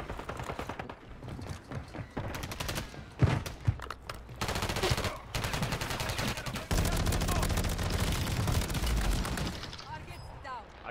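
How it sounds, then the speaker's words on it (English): Bursts of gunfire in Call of Duty Warzone on Rebirth Island, sharp repeated shots and fusillades running through most of the stretch, mixed with game effects and players talking over the action. "I got shot to your right somewhere, Brady."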